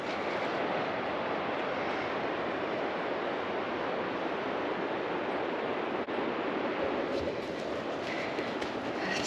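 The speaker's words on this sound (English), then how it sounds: "we've picked up that sound of the Dart River" The Dart River on Dartmoor rushes in a continuous broadband roar of flowing water, loud and close throughout with no breaks.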